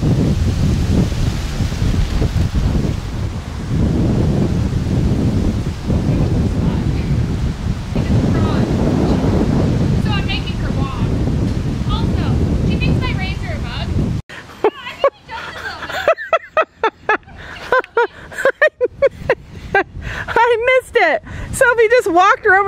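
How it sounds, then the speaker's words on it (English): Strong gusty wind buffets the microphone at an outdoor horse riding arena, a loud steady roar for most of the stretch, then giving way to quieter intermittent sounds with talking. "Because it is windy,"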